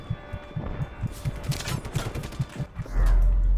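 A deep, loud explosion booms in Just Cause 3 after a stretch of rapid rhythmic gunfire, the blast swelling at the very end.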